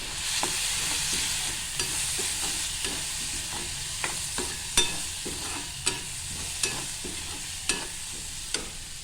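Chana dal, soaked for two hours, sizzles steadily in a hot pan while a spoon scrapes and stirs it in regular clicks and knocks close by, with no one talking.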